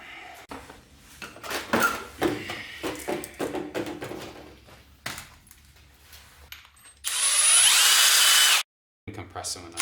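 While a spring compressor is fitted to the strut springs of a Mk7 Golf Sportwagen, scattered clanks and tool handling come first, then a loud, sustained power-tool whir runs for nearly two seconds before stopping abruptly.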